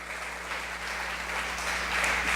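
A church congregation applauds, a broad continuous wash of clapping filling the room, steady at first and swelling louder toward the end.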